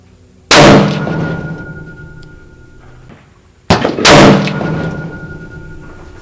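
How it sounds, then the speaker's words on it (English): Two loud rifle shots fired at a target about 140 yards away, each a sharp crack with a ringing decay, spaced roughly three seconds apart, close to the shooter outdoors. "Let's shoot some."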